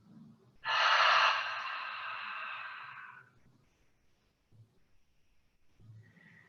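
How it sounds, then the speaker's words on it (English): A single long open-mouth exhale during a yoga cool-down, a breathy rush of air close to the microphone lasting a couple of seconds and fading out, followed by quiet room tone with faint soft movement. "take a few open mouth exhales"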